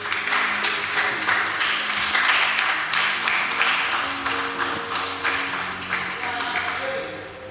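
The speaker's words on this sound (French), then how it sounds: "Je l'applaudis." A church congregation applauds during a Sunday service, with moderate clapping running steadily throughout and a tonal voice or music layered underneath.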